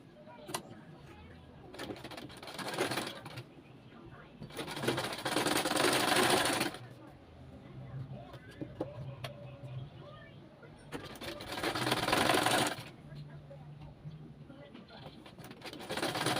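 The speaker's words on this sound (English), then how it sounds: "I'll just sew on this." A sewing machine stitches the neckline facing of a box-pleated baby dress in three separate runs, each a dense close whir lasting a few seconds, with quiet room sound between them.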